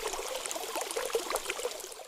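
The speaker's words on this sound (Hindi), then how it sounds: "किसान जल्दी से पानी लाता है और उस पर डालता है।" Water poured over an ox on a farm, a steady splashing trickle lasting a couple of seconds before tapering off, with no voices.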